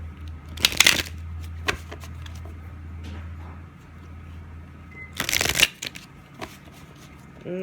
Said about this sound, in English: Let me give these cards a nifty-difty shuffle-luffle.